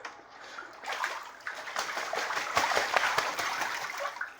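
A pet goose splashes in a filled bathtub indoors, sending up a continuous rush of churning, spattering water with repeated louder splashes close by, and no voices.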